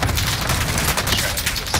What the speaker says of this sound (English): I'm getting shot by another squad now.